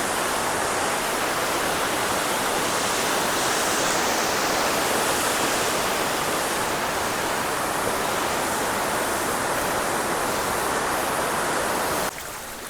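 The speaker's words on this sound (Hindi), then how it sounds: "तो इस टाइम पानी का जो फ्लो है ना वो देखो आप" Fast, extreme flow of a mountain river beside the Shri Kinnaur Kailash Yatra trail, a loud, steady broadband rush of churning water filling the whole stretch without pause.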